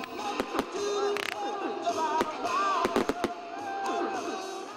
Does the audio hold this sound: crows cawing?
no